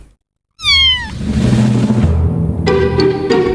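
A cat meows in a clear rising-falling call that starts abruptly after a short silence, followed by softer mews and chirpy tones over a steady background hum, close and fairly loud.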